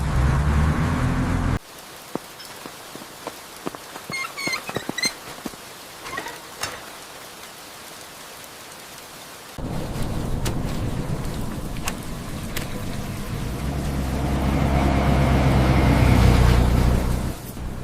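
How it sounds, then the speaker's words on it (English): Heavy storm rain in a steady broadband wash that grows louder and fuller over the second half, with a quieter, patchier stretch before it; no clear thunder stands out. "Seems like the storm is settling in."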